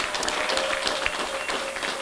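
Wedding guests applauding together, a steady, dense wash of clapping heard at moderate distance throughout, with no voices rising above it.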